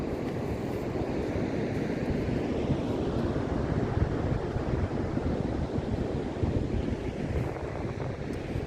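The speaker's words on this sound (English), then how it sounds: "good little surfing beach this one" Surf rolls steadily onto Constantine, a Cornish surfing beach, in the early morning as a continuous broad roar of breaking waves, mixed with wind rumbling across the microphone.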